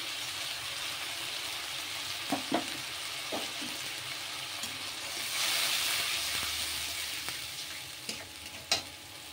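Spice paste for a soya chunk and vegetable curry poured into a hot frying pan, giving a steady close sizzle and hiss that swells midway, with a few sharp scrapes and knocks of stirring in the pan.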